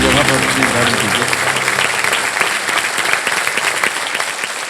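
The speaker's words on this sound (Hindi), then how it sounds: "तालियों के साथ हम चाहेंगे कि उनका स्वागत हो।" Loud, sustained applause from a studio audience welcoming new contestants on the quiz show Kaun Banega Crorepati Season 16, a dense wash of clapping filling the whole stretch with brief voices showing through at the start.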